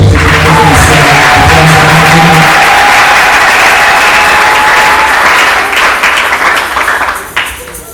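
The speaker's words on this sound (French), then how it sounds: "Voudriez-vous l'acclamer avec moi?" A church congregation bursts into loud, dense applause for the speaker at a French-language spiritual gathering, sustained for several seconds before tapering off near the end.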